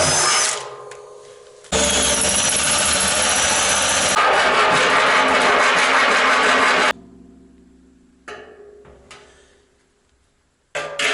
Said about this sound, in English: one of the things I've got to do is drill a hole down here in the bottom for this electric heating element